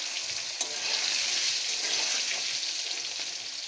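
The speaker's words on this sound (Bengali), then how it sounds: "আলুটা আমি লাল লাল করে ভেজে নেব।" Potato pieces fry in hot oil already used for kofta, producing a close, steady bubbling sizzle of moderate loudness that continues evenly with no talking.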